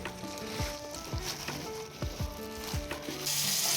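Fish frying in a pan at home, a steady close sizzle with crackling bursts and the clink of a utensil stirring at regular intervals.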